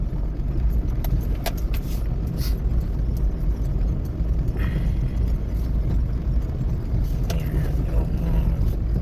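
A car drives along a rural single-lane farm road in Natividad, Pangasinan, giving a steady, close engine and road rumble with occasional light rattles, and no talk is heard.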